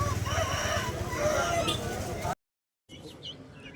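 A desi rooster at the Vijayawada Sunday country-chicken market crows loudly nearby amid market chatter and voices, the call cut off by a brief silence before fainter bird sounds resume.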